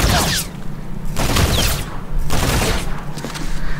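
Gunfire in Call of Duty Infinite Warfare, loud, rapid bursts of shots in three clustered volleys separated by short lulls, with mechanical clatter beneath.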